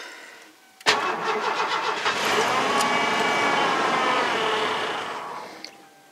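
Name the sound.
Ford F-150 engine cranking on a cold start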